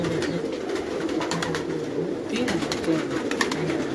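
Rampuri pigeons coo in a steady, low, throaty murmur that overlaps from several birds close by, with scattered wing flutters and brief faint sounds over the continuous cooing.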